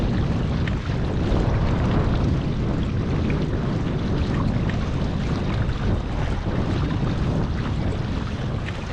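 Wind blows across a lake during kayak bass fishing on a cloudy morning, a loud, constant buffeting roar against the microphone with a faint wash of water beneath.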